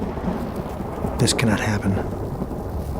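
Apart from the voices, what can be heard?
thunderstorm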